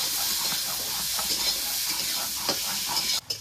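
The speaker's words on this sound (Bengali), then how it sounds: "এবার নেড়ে চেড়ে আলুগুলোকে ভেজে নেব।" Boiled potatoes with a little salt stirred and fried in a pan, a steady close sizzle with repeated scraping stir strokes throughout, briefly cut near the end.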